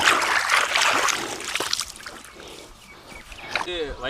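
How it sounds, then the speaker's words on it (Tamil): Irrigation water flows into a spinach field with a steady, close, broadband rushing and trickling wash, while a person talks over it throughout. "தண்ணி பாயுது"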